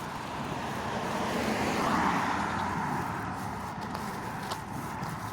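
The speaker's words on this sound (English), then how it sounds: "Car coming." A car approaches and passes along a street at night, a broad rising and fading whoosh of tyres and engine over steady background noise, with no one talking.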